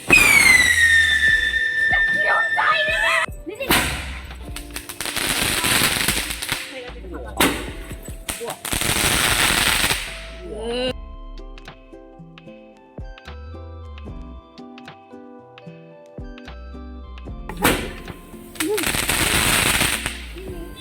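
Firecrackers set off during Kali Puja celebrations in Bengal, with loud repeated bursts and rapid crackling strings close by, separated by quieter gaps with distant pops and background chatter.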